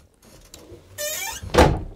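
A pocket sliding door in a 2017 Pilote Integral G741 Sensation camper van rolls along its track with a rising swish, then shuts with a firm thump near the end, close and alone.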